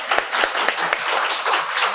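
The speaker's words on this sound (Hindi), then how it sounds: "स्वागत करें जोरदार तालियों के साथ।" An audience at a Hindi stage speech event breaks into loud, dense applause, many hands clapping together in a sustained burst with a few sharper claps standing out.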